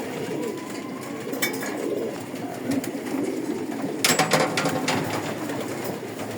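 Racing pigeons coo in a loft, with soft repeated throaty calls close by, a few sharp wing flaps and clatters, and faint background activity.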